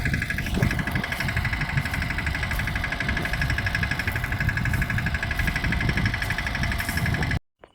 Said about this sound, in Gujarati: ટ્રેક્ટર લઈને નીહરી ગયો છું લોર જવા માટે